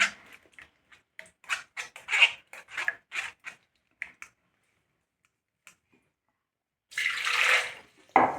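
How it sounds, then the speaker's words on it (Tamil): Water is added to an almond soup with potato flour and kohlrabi, first as scattered light clicks and splashes, then a short burst of pouring near the end, with no speech. "நம்ம இதுக்கு எவ்வளோ வாட்டர் வேணுமோ இதை வந்து சேர்த்துக்கலாம்"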